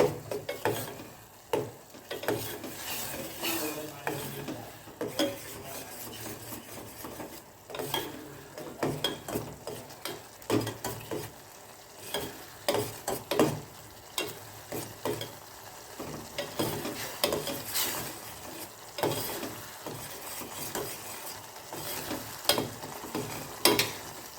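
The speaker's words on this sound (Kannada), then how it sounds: "ಟೊಮೊಟೊ ಪೇಸ್ಟ್ ಏನಿದೆಯಲ್ಲ ಇದು ಎಣ್ಣೆಯಲ್ಲಿ ಚೆನ್ನಾಗಿ ಫ್ರೈ ಆಗಬೇಕು" Tomato paste fries in oil for a rasam, a soft bubbling sizzle broken by frequent scraping and tapping of a spoon against the pan as it is stirred, fairly close and moderate in loudness.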